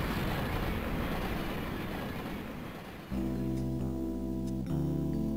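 A rushing, rumbling train in the video game Mother 3 fills the first three seconds, then gives way abruptly to sustained tonal game music, with no speech.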